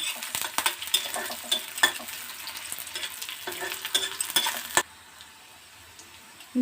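Onions fry until light brown while a spatula stirs them in a pan, with crackling sizzle and repeated metallic scrapes and taps close by. The sound drops abruptly to near quiet near the end, and no one speaks.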